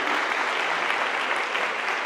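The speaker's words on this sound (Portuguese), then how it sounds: "Vamos dar uma salva de palmas à palavra de Deus. Pode aplaudir bem forte aí." A church congregation applauding the word of God, steady dense clapping from a sizeable crowd, continuous and even across the moment with no talking.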